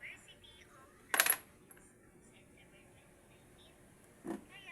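Coins clink in two brief bursts, a louder jangle early on and a fainter one near the end, close by against a quiet background.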